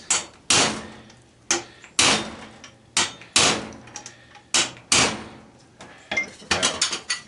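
Sharp metal-on-metal hammer blows drive a punch against a part in an air compressor motor being scrapped, about eight loud, close strikes at irregular intervals, each ringing briefly, with quicker taps bunching together at the end.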